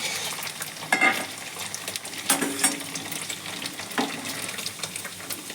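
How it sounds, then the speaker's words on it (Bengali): Paneer cubes frying and turning light golden in a pan, a steady close sizzle broken by a few louder bursts as the pieces are stirred or moved, with no talking. "দেখুন কত সুন্দর করে ভাজা হচ্ছে।"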